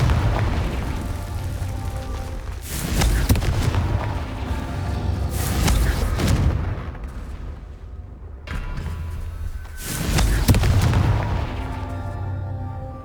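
Explosive Confringo and Bombarda spells in Hogwarts Legacy, heavy booming blasts that burst in several waves, each loud hit followed by a rumbling decay.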